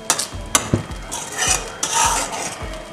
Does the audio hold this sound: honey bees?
no